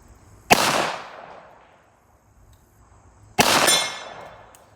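Two sharp pistol shots from a Kimber Eclipse Target II crack outdoors a few seconds apart, each followed by a decaying echo over a quiet background.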